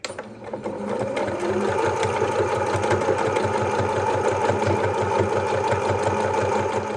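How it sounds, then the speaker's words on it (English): Sewing machine stitching a harvest apron in blue thread: a steady, rapid mechanical chatter of the needle running continuously at an even pace, close and alone. "I'm going to sew on this side as well as this side."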